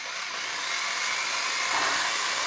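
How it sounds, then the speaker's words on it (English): A handheld power drill, fitted with a cleaning tool for a dryer vent line, whirs continuously at a steady, loud pitch with no pauses and no talking. "So when I turn on my drill"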